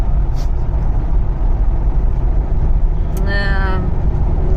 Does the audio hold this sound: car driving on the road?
yes